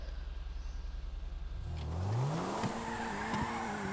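A car in the GTA 5 racing game clips a fence and spins out: a steady engine drone gives way to a rising rev and a loud, sustained tire squeal with skidding, close and without voices.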